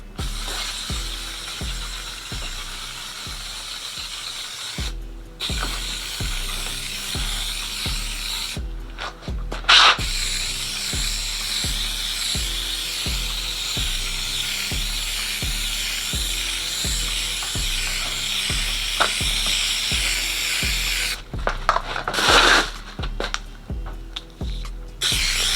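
An aerosol can of spray adhesive sprays in long hissing bursts with brief pauses, over a steady rhythmic music beat.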